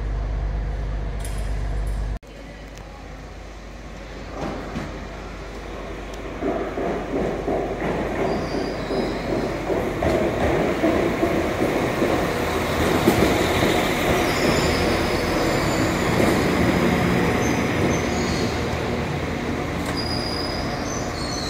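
A train pulls away from Nottingham station with a low rumble that builds steadily, wheels clacking and faint squeals over continuous mechanical noise, no voices.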